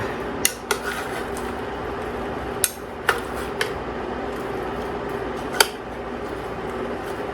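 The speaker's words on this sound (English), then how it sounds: "And give it all a good stir." A spoon stirs beef stew with apple cider in a pot, giving a handful of sharp metallic clinks and scrapes scattered over a steady low kitchen background, close up and with no talking.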